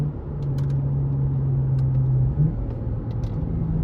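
A car with paddle shifters and a newly installed aftermarket axle-back exhaust gives a close, steady, deep exhaust drone with a brief dip and rise in pitch partway through.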